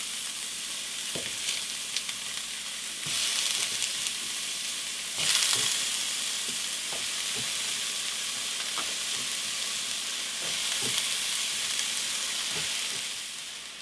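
Potatoes and carrots, salted, frying in a pan with a steady crackling sizzle throughout, swelling in brief bursts as they are stirred, with no talking.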